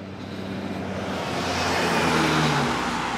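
A car rushes past in a parking lot, its engine and tire roar swelling from a distance to a close, loud peak, then starting to fade.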